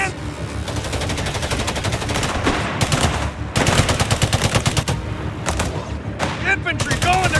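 Rapid small-arms gunfire and machine-gun bursts crackle almost nonstop in a Company of Heroes 3 World War II battle at an Italian airfield, with loud overlapping shots throughout and shouted voices mixed into the chaos.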